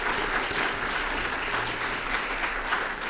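Steady applause fills a board of education meeting room for about three seconds, an even wash of many hands clapping at once.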